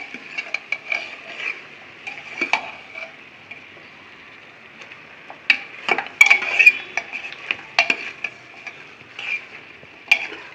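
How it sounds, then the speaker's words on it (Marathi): Mutton pieces fry in oil in a pan for a traditional village-style mutton rassa, giving a low steady sizzle broken by scattered clinks and scraping stirs, close and fairly quiet, with no talk. "बघा मस्त फ्राय होतंय आहे"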